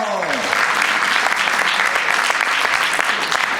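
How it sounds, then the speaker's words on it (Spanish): Applause from an improv comedy audience in Carballiño, a dense burst of many hands clapping that fills the room for a few seconds, with a voice briefly audible at the start. "¡Un aplauso!"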